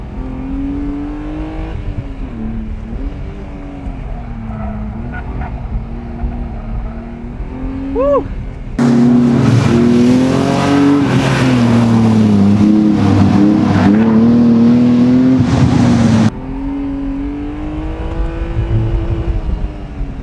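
A BMW E36 M3 race car drones close and loud on a hill climb, rising and falling in pitch as it climbs through gears, with a harsher, louder burst in the middle.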